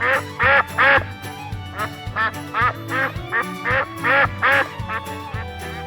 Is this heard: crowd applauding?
no